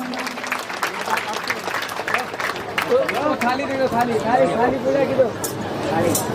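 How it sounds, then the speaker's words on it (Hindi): Applause from a seated audience at a Guru Purnima puja ceremony, a steady wash of clapping and crowd murmur that rises and holds for several seconds, with voices talking underneath. "इनका जोरदार तालियों से अभिनंदन"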